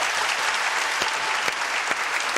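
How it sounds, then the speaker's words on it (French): A studio audience at a French television show applauds steadily, dense even clapping with a few sharper claps standing out, filling the whole stretch without voices. "Monsieur Choulet, applaudissements."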